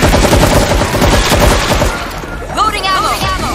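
Gunfire in the zombie shooter World War Z Aftermath, dense bursts of rapid shots over the first two seconds, loud and close, with a player's voice talking over the action.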